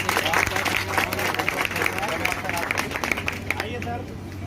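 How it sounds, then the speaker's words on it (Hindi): Audience applause at a coaching class annual function: dense, sustained clapping from a crowd with babble mixed in, fairly loud and close, thinning slightly toward the end. "सबसे बड़ी महान जोरदार तालियां"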